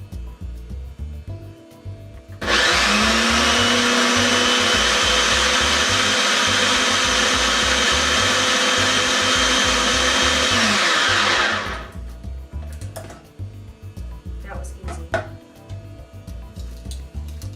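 A countertop blender mixing a sauce for Asian slaw runs as one loud, steady whir for about nine seconds, then stops, leaving kitchen clatter and handling noises.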